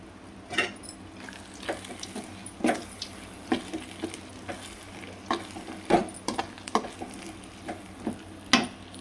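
Ground powder stirred into sago upma in a pan: a spoon scrapes and taps in an irregular stream of many close strokes over a soft background sizzle.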